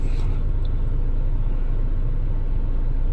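A 2006 Nissan X-Trail engine idles at about 812 rpm, giving a loud, close, steady low rumble that holds unchanged through the short stretch, with no speech.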